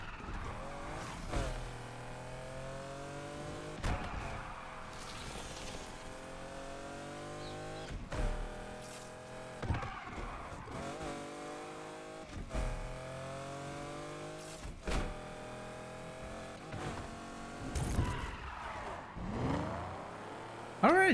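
Racing car engine revving and shifting through gears in Need For Speed Unbound, with repeated tire skids during handbrake turns over continuous game audio, and a voice talking intermittently.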